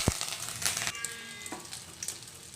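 Mustard seeds and curry leaves sizzle in hot oil, a sharp crackling hiss with a few pops, steady and close.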